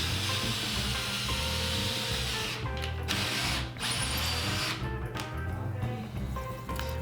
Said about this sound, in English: Then came the moment of truth where we had to drill a hole through the floor.